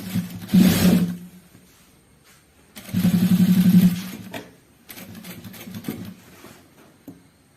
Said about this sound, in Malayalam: ചുളുക്ക് വരാതെ മടക്കി സ്റ്റിച്ച് ചെയ്യുക.